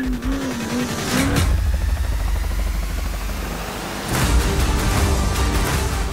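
Off-road race vehicles roar along the Mint 400 desert course, a loud, continuous engine drone with broadband rush that swells again near the end, no talk.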